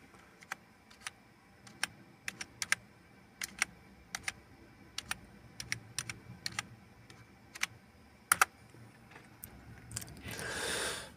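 Keystrokes of a password being typed on a computer keyboard under Linux, a steady run of sharp close clicks in uneven bursts, ending with a short rustling swell.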